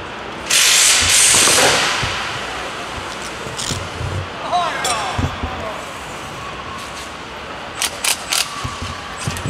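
An impact wrench undoes wheel nuts at a motor show, giving one loud buzzing burst near the start, followed by scattered clicks and clatter under murmuring voices.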